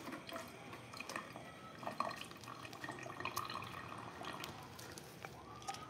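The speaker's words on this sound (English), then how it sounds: "let's wash this real quick." Running tap water rinsing raw meat in a kitchen, a quiet continuous trickle and splash with scattered drips, close but faint.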